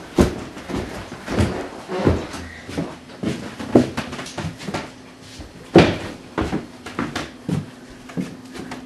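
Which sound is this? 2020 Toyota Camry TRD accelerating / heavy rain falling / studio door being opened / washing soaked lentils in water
studio door being opened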